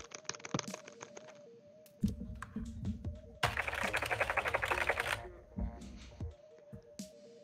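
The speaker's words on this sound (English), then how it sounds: "Loud ass keyboard." A loud computer keyboard clatters up close in quick bursts of clicks and heavier runs of keystrokes, with soft steady tones in the background and no one talking.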